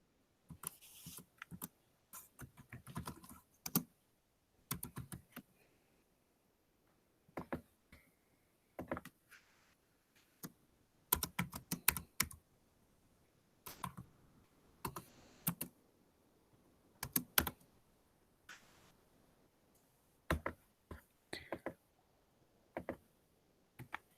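Bursts of computer keyboard typing come in irregular clusters of quick, crisp key clicks separated by short pauses, close and moderately quiet, with no talking.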